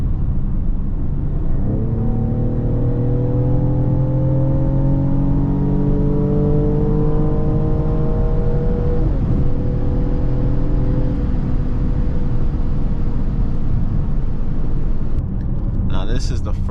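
A 2024 Mercedes-AMG GLE 53 accelerates hard at night, its engine note climbing through several rising sweeps as gears change, loud and close from inside the cabin, then easing off before a brief clatter at the end.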